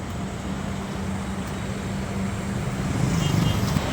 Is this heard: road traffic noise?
yes